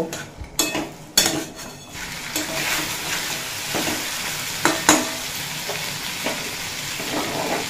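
Mutton curry with potatoes being stirred in a pot, with steady frying sizzle and repeated scraping and clinking of a spoon against metal, fairly close, with no talk.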